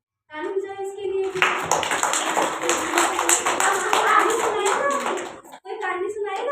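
A group of children claps in a classroom, a dense run of hand claps that fades out, with the teacher talking at the start and end.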